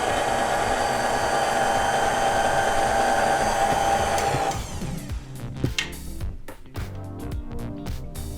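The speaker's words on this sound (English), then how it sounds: "We're gonna put our mixer together now" A stand mixer beats rainbow cake batter at medium speed, a steady loud motor whir for about four seconds before it cuts out, leaving clattering and handling sounds.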